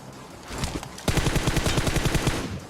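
Rapid automatic gunfire in the mobile battle royale game PUBG Mobile, starting as scattered shots and becoming a loud, steady burst of rhythmic bullets.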